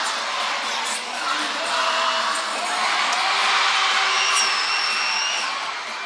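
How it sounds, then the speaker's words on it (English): A hockey arena crowd, filling the lower bowl up to the top row, chants together in a loud, sustained roar with rising and falling swells, heard at a distance across the rink. "Crowd now chanting SpongeBob SquarePants for this crowd."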